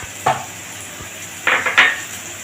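A utensil scrapes and clinks against a pan while dry chilli chicken is stirred, with a few short metallic knocks and scrapes over a faint background hiss.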